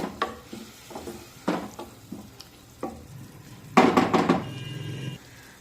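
A spoon scrapes and stirs potato curry in a kadhai after a little water is added, with short bursts of clatter and a soft sizzle, ending in a longer, busier stretch of stirring.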